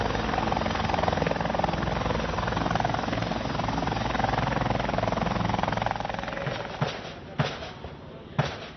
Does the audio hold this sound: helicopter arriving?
yes